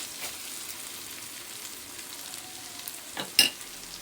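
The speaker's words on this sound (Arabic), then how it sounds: "نقلبها هي كمان لحد ما ريحتها تطلع مع الشعرية" Minced garlic and vermicelli fry quietly in a pan, with a soft steady sizzle and an occasional stir or scrape, the loudest near the end. The sound is close, low in level and without talk.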